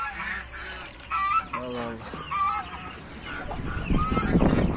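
Farmyard geese honk in repeated nasal calls close by, overlapping with a voice calling to them, with scuffling noise from the birds building toward the end.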